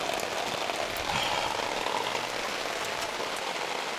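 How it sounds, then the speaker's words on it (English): Rain falls steadily just outside a garage, making a dense, even hiss of drops on surfaces that carries on unbroken at moderate loudness, with no talk over it. "let's get out of the rain"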